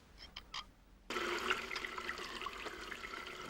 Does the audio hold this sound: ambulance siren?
no